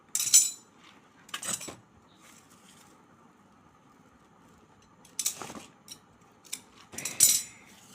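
Scissors snipping ribbon for a golden craft decoration, two short bursts of cutting near the start and several more toward the end, close and crisp, with quiet pauses between.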